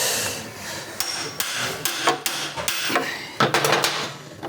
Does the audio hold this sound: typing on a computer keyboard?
no